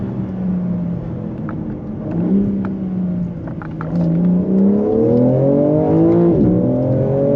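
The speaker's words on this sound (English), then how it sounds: "you hear that exhaust just spit" A 2024 BMW M4 Competition xDrive coupe downshifts into second on the road, the engine note rising and falling in revving sweeps while sharp exhaust pops and crackles snap through the rumble.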